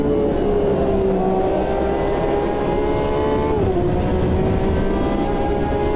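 A race car engine in Automobilista 2 at Monza drones steadily at high revs, pitch dipping slightly midway as it shifts, a continuous loud mechanical tone with no talk.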